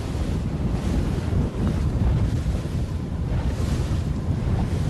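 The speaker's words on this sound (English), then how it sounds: "It looks like the wind has actually picked up a lot, even more than yesterday." Strong wind blasts across the microphone at sea during an ILCA 6 youth dinghy sailing race. Heavy rumbling buffeting mixes with the wash of waves and surf, loud and constant throughout.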